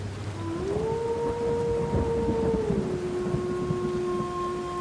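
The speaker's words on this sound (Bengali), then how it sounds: "এবার তার সঙ্গে শেয়ালের ডাক যোগ হলো" Long, drawn-out howling cries of jackals rise and hold over a steady hissing background of crickets at night.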